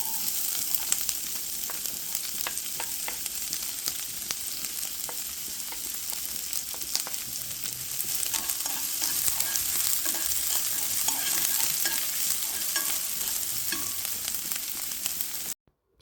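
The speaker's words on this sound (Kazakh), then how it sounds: "Май қызған соң пиязды саламыз." Onions fry in hot beef tallow in a pan for shakshuka, a steady close sizzle crackling continuously with occasional stirring scrapes, with no talk, until it cuts off abruptly at the end.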